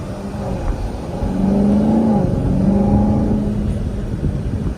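A 2020 Camaro ZL1 1LE supercharged 6.2-litre V8 engine rumbles and revs up in sport mode, its pitch rising and falling in a steady swell, heard from nearby without any talking.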